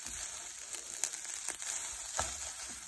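Veggie pad thai noodles frying over low heat in a pan, a steady close sizzle with soft stirring scrapes and small crackles, no voices.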